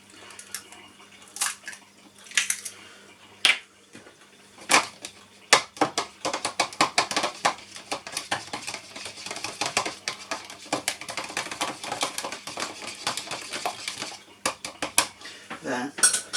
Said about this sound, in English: So I forgot to beat my eggs.